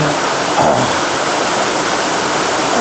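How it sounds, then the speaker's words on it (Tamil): Heavy rain pours down steadily during a March storm in southern Tamil Nadu's delta region, a loud, dense, unbroken hiss with no voices. "நல்லா மழை கொட்டுது"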